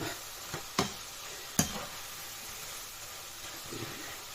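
Pork and vegetables, such as potato and zucchini, are deep-fried a second time in hot oil to crisp them, giving a quiet, continuous sizzling hiss broken by a couple of sharp utensil clinks.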